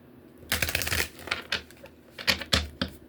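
Tarot cards are shuffled in quick riffling bursts, several crisp flurries of flapping and slapping card edges close up, with brief pauses between them.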